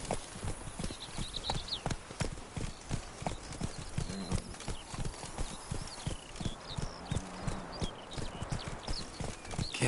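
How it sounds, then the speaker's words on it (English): Horse hooves gallop in The Witcher 3, a steady, continuous clip-clop rhythm that is close and clear throughout, with faint ambient game sound beneath. "Even a horse drops if you ride it with a constant gallop."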